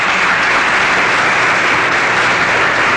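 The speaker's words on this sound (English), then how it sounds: "A round of applause, please" A round of applause for a beauty pageant candidate at a final question-and-answer round, loud and sustained clapping from a large audience that fills the whole stretch evenly with no break.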